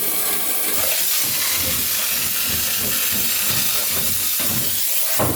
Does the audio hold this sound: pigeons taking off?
no